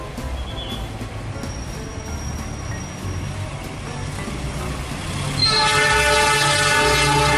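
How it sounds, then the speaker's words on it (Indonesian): An Indonesian KAI railway locomotive passes with a steady rumble and clatter of wagons. A long, loud horn blast rises near the end, and brief higher tones sound earlier. "Lihat, ini lokomotif kereta api. KAI, Kereta Api Indonesia."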